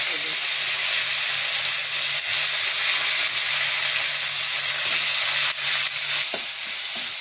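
Chopped tomato goes into hot oil with panch phoron spices in a pan, setting off a loud, steady close-up sizzle and hiss with a few brief stirring scrapes.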